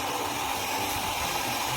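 A hair dryer blows steadily at close range, drying hair just treated with Brazilian keratin, giving a constant loud whooshing hum that does not change, with no voices.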